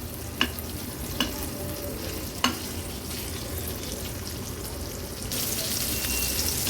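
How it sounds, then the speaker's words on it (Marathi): Fish roe (gaboli) fries in a pan with a steady, soft sizzle, broken by three sharp utensil taps early on and a louder hiss of spattering oil near the end, no voices. "उलत पालत करून ही गाबोळी आपण तळून घेऊया"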